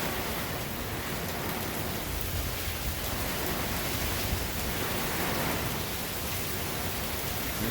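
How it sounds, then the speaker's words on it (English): Heavy rain and wind from Hurricane Ian in September 2022 make a dense, loud, unbroken hiss and roar that stays steady throughout, with no voices. "And it is raining"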